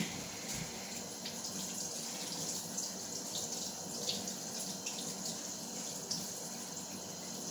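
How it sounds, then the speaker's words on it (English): Cold water runs from a tap into a sink, a continuous gentle splashing stream at moderate distance with faint intermittent clinks over it. "Have my cold water running."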